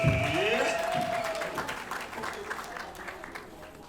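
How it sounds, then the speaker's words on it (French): Wedding guests break into applause together with cheering and ululating voices, strongest at the start and thinning into lighter clapping under murmured talk. "Applaudissements s'il vous plaît."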